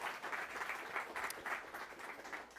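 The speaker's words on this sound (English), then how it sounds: "Let's give a round of applause to them as well." Applause from attendees at a company all-hands meeting, a soft, steady wash of clapping that sounds distant or heard through a room, continuing evenly throughout.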